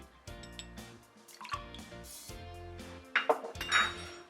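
Water added to sugar in a glass while making a mint julep, with ringing clinks of glass and metal, a few drips, and brighter splashy pours near the end.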